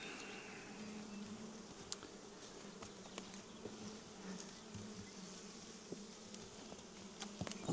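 Honeybees buzz around an open beehive in a steady, faint drone, with individual bees flitting past in brief louder passes while the colony hums continuously in the background.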